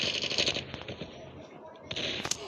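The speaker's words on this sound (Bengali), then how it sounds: "এবার এই যে আমাদের টিম গুলি করছে, মানে লাফিস গুলি করছে।" Rapid bursts of video game gunfire crackle in short volleys, with a pause in the middle before more shots resume, fairly faint overall.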